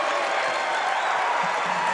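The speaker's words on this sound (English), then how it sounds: "Listen to the crowd." Crowd noise at a Bradley vs Indiana State college basketball game after a deep three-pointer, a dense and steady roar of cheering and applause that holds loud throughout.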